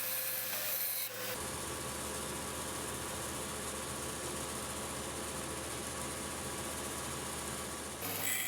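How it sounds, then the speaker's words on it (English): Skim cuts trimming wooden tenons down to thickness for a slip fit, with a steady rasping, rubbing cut that runs continuously for several seconds, close and even, and brief quieter moments before and after it. "a couple more skim cuts is all it takes to bring the tenons down to the appropriate thickness for a nice slip fit"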